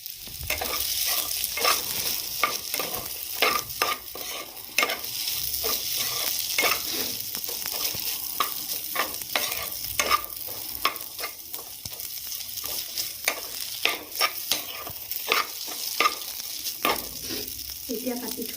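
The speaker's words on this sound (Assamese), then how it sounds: "এতিয়া মছলাখিনি দিয়াৰ পিছত অকণমান দেৰি ফ্ৰাই কৰি" Spices for chicken Maggi fry in a pan, a continuous close sizzle broken by frequent scraping strokes of a stirring utensil in a busy, irregular rhythm, with no voices.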